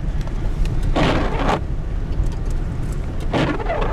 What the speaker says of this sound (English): I'm driving in snow-packed roads right now